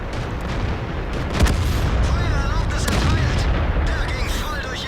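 Tank cannon fire in World of Tanks during a close nose-to-nose fight with a VK3601H, a dense rumbling battle bed with a sharp boom around the middle, under a player's voice and game effects.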